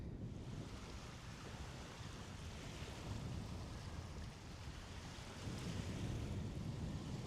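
Arctic Ocean surf washes steadily against the shore, a continuous broad roar of breaking waves mixed with wind buffeting the microphone, fairly quiet and with no voices.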